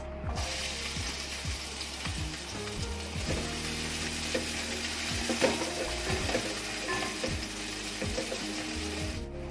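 Finely chopped onion sizzling in about a tablespoon of hot oil in a pan, a steady close frying hiss with occasional stirring scrapes, no talking.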